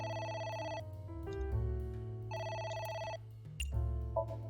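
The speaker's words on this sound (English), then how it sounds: "It's ringing" A telephone bell rings in repeated electronic bursts with short gaps between them, steady and moderately loud, backed by a low droning hum.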